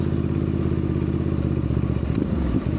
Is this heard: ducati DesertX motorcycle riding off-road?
yes